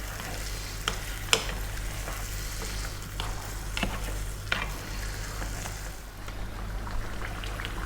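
A pot of lamb curry bubbles and sizzles steadily, with occasional scrapes and clinks of a spoon stirring through it, close by and without talk.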